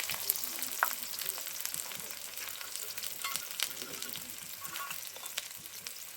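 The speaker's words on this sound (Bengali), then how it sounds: "এরপর কড়াইয়ে দিয়ে দেবো কেটে রাখা পেঁয়াজগুলো।" Chopped onions frying in a wok for chicken kosha, a soft continuous sizzle with light crackles, fairly faint and without speech.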